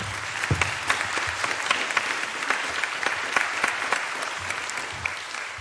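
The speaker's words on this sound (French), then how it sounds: "Je vous propose d'applaudir une dernière fois." Audience applause at a French conference round table on interdisciplinary chronic pain care, a steady, dense wash of many hands clapping at moderate distance, continuing throughout with no talk over it.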